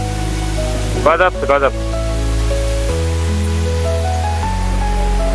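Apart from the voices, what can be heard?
waterfall on Jeju island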